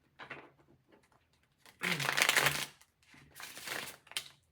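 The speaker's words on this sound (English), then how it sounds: "let me see if I can do a better shuffle this time" Tarot cards being shuffled by hand during a love reading, with two bursts of dense papery riffling and rustling, the second slightly softer, separated by brief quiet handling sounds.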